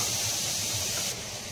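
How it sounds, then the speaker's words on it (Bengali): Prawns rubbed with salt and turmeric sizzle as they are dropped into hot oil in a kadai. The hiss is a steady, close, fairly loud crackle that drops off slightly toward the end. "এবার আমি চিংড়ি মাছটা ছেড়ে দিলাম।"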